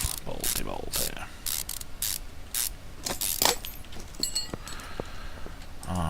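Ratchet clicks and mechanical whirring from tightening wheel bolts in Car Mechanic Simulator 2015, heard as repeated bursts of bright ratcheting close up, with faint game tones between them.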